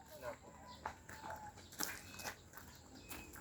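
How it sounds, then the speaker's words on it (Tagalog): Chickens cluck on a farm resort in Tagaytay, several short soft clucks and calls scattered over a faint outdoor background, fairly distant and quiet. "Ano meron dun? Mga manok."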